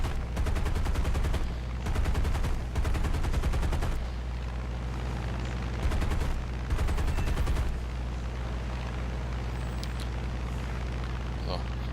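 Enemy bomber gunners in War Thunder open up with machine guns in repeated rapid bursts over a constant roaring aircraft engine drone, loud and close.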